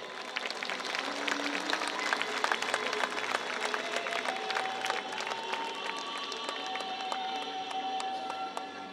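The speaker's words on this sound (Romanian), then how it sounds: "Aplauze pentru acest minunat coral." An audience at a cultural-artistic event honoring education workers applauds a choir, with dense, steady clapping filling the hall for about nine seconds, loud and continuous with faint crowd murmur underneath.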